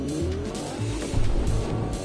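A car in a PS4 driving game revs and skids with tires squealing, a short, close burst of engine drone and screeching rubber.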